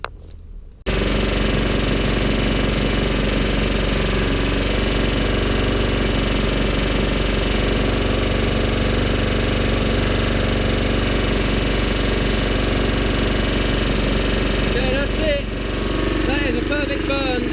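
A GEET fuel processor engine runs steadily at no load, a loud continuous knocking drone that holds level throughout, with a brief dip and some clatter near the end.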